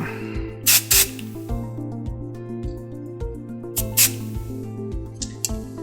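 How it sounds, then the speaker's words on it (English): Short hissing bursts of a dry shampoo aerosol spray, two quick blasts then a couple more later, over soft background music. "I'm going to start this look by using some of the Dry Shampoo"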